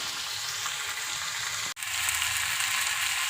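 Tomatoes cook in a pan, giving a steady close-up frying hiss with a brief drop in sound partway through before the sizzle resumes; no one speaks.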